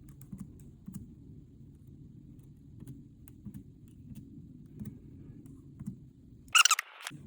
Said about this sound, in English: I have a few more characters to type in